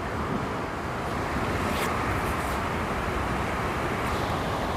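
Steady, loud wind rumble buffets the microphone throughout, a dense roar with no pauses and no clear voices.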